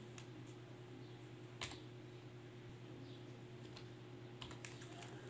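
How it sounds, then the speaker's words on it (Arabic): Keystrokes on a computer keyboard as a subject code is entered, sparse clicks and a few sharper taps over a steady low electrical hum and background hiss. "هكتب رمز المادة او مجموعة العلوم اللي اديها لي مدرس مادة العلوم"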